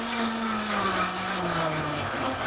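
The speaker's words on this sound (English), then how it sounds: "First, I want to blend for just a few seconds to get the cashews" A blender whirs continuously for a few seconds, mixing cashews with liquid, its motor tone steady and close, gradually dropping slightly in pitch as the load settles.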